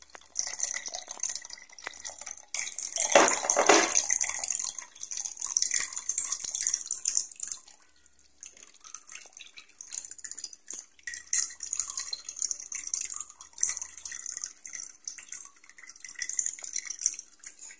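Ash water made from coconut-leaf ash trickles and drips through a tissue paper filter, a continuous thin patter of small drops that rises and falls close by.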